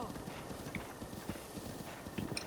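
Horse hooves clip-clop in a steady, even rhythm while riding in the video game The Legend of Zelda: Breath of the Wild, the game sound fairly quiet with a faint snort near the end.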